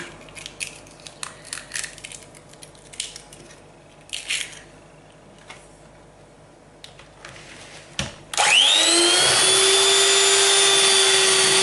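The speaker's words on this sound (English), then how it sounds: "So we're going to add in the eggs one at a time and beat them in." An electric mixer whirs loudly and steadily, beating eggs into creamed butter and sugar for a sponge cake. It starts after several seconds of quiet cracking and tapping in a kitchen.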